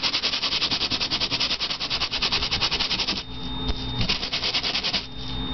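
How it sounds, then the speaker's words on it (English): Light sanding of an embossed Christmas tag: a loud, close, rhythmic rasp of quick strokes for about three seconds, then a smoother, steadier rubbing. "if you're still not satisfied, you can also lightly sand."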